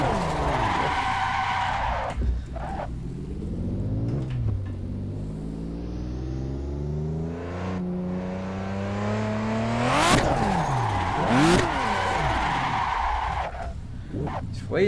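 Tires squealing and skidding as a car drifts in the Assetto Corsa racing sim, played on a wheel rig, with the engine revving and pitching up and down through long screeching slides and sharp throttle bursts, loud and continuous.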